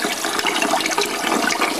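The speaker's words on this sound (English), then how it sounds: "Okay, so basically wash the rice. It's got starch in it, so basically wash it with your hands." Rice being washed by hand in a bowl of water, a steady sloshing and swishing of grains and liquid, close and continuous with no talking.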